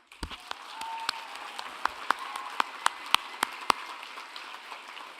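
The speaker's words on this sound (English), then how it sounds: "Let's salute their contribution with a round of applause" Scattered, sparse clapping at a Middlesex University Dubai graduation ceremony in 2017: distinct individual claps ring out irregularly over a soft bed of quieter applause in a large hall, then thin out.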